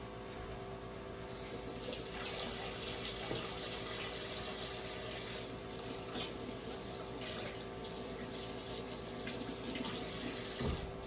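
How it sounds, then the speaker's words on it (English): Water runs steadily from a sink tap while hands are washed beneath it, a continuous close hiss with small splashes and shifts in the stream. "I've already washed my hands, so I'm gonna wash them again."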